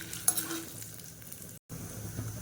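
Dried red chillies, broken in half, fry in oil in a pan with a steady, soft sizzle and faint stirring scrapes. There is a momentary dropout partway through and no voices.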